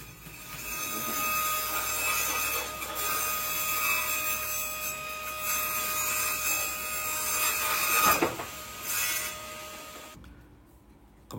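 A table saw, an 8-inch HL 6126 on a low-wattage home power supply in a small residential workshop, steadily cutting wood with a continuous loud grinding whine and a rising push near the end before the blade spins down.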